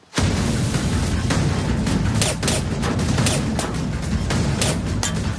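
Sustained heavy gunfire rattles nonstop at close range, dense bursts of shots with sharp cracks punching through a constant roar.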